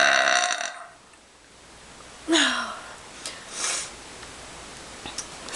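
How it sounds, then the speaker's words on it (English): A person burps loudly in a quiet room late at night: a short rumbling belch is followed by a few softer breathy sounds and faint rustling. "I'm gonna make another burp video."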